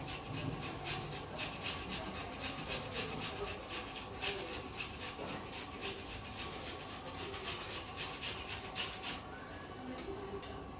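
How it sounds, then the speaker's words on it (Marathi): Fresh coconut being grated by hand for poha, a steady rough scraping and rasping that runs continuously at close range in a home kitchen, with no talk over it. "खोबरं मी किसून घेते"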